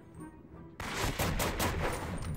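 Rapid gunfire in Medal of Honor: Vanguard, a World War II shooter, with quiet ambience giving way to sustained, dense bursts of shots that keep going to the end.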